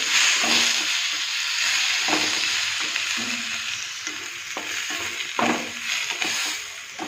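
Tomatoes fry in a pan for chutney with a steady sizzle. Regular scraping strokes of a spatula or spoon stir them and break the sizzle into rhythmic pulses.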